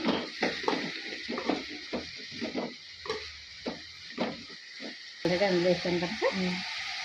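Turmeric being stirred into spices frying in a pan, a steady sizzle with repeated scraping stir strokes, fairly close, brief voice at the end.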